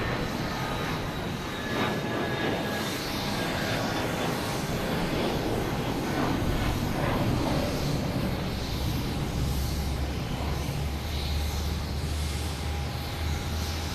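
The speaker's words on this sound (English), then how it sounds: "American Airlines coming from LAX" An American Airlines A321 jet airliner from LAX roars steadily at Boston Logan, a broad, continuous engine rumble with a faint high whine, sustained throughout without talk.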